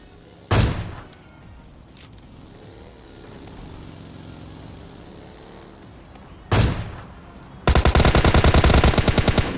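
PUBG Mobile Lite gunfire: two loud single shots from an AWM sniper rifle several seconds apart, with an engine drone between them, then a rapid burst of M4 rifle fire.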